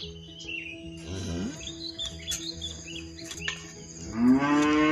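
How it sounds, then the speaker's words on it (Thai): Cattle in a pen holding weaned cows' mothers and a herd bull moo repeatedly, low calls near and far with a loud rising moo at the end, over a bed of birdsong and insect chirps. "วันนี้เราได้นำเจ้าล็อกกี้ ย้ายมาประจำที่คอก ของแม่วัวที่ลูกหย่านมแล้วนะคะ"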